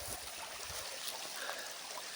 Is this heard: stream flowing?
yes